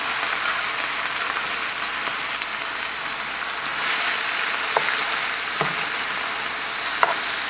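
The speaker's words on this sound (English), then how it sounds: "So you just basically saute this for about 10 minutes until it gets softened" Garlic, basil and tomatoes sizzle steadily in a pan, a loud continuous hiss with a few light scrapes and taps of stirring near the end.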